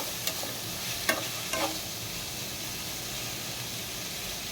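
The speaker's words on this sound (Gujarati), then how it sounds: "ડુંગળી સાતળાઈ ગઈ હતી એટલે મેં બધી વેજીટેબલ નાખી દીધી છે અંદર." Vegetables frying in a pan with sautéed onion, a steady sizzling hiss with a few brief stirring scrapes early on, close and continuous.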